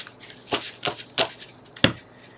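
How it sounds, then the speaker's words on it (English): A deck of oracle cards is shuffled in four quick riffling bursts, close and crisp, with no talking. "let's give the Sacred Creators Oracle just one more shuffle."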